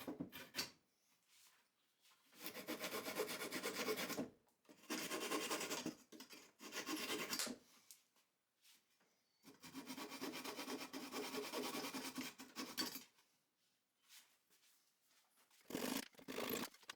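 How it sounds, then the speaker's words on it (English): Sandpaper rubs over wooden bench legs in several sustained bursts of scratchy scraping, separated by short quiet gaps, close and fairly faint. "ready to sand."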